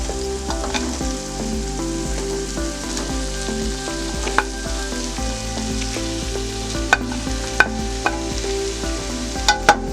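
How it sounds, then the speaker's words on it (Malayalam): Pre-fried chicken breast pieces being stirred into a sizzling honey glaze in a hot pan, a constant loud frying hiss with scraping stir strokes and a few sharp clicks of a utensil against the pan, no voices. "നമ്മൾ ഇനി ഇടാൻ പോകുന്നത് നമ്മൾ മുമ്പേ വറുത്ത് വെച്ച ഇനിയും ചിക്കൻ ബ്രസ്റ്റ് ഇതിലേക്ക് ഇട്ട് കൊടുക്കുന്നു."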